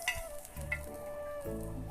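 Onions sauté quietly in oil on a tawa for egg chicken, a soft continuous sizzle with light stirring and occasional scrapes.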